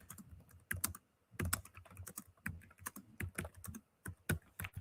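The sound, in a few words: typing on a computer keyboard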